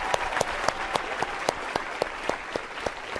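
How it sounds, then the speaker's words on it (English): An audience claps in a loud, steady round of applause, the individual claps sharp and rhythmic, heard alone for a few seconds. "Big round of applause to everybody."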